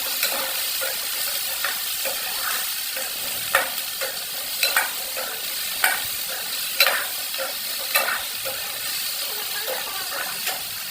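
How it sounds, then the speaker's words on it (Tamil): Onions sautéing in a hot pan: a steady close sizzle with spatula scrapes and stirring clicks recurring every second or so, with no voices. "வெங்காயம் வதங்குது."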